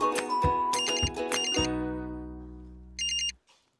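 A mobile phone ringtone plays a bright electronic melody in a few quick note bursts, then a long ringing tone that fades out before a short final chirp, loud and close with no voices.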